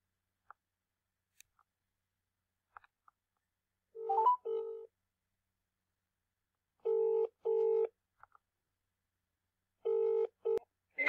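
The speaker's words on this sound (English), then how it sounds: "Just ring up John O'Looney." A telephone number is dialed in short bursts of keypad tones, followed by a few ringback pulses, with faint clicks in between and no talk over it.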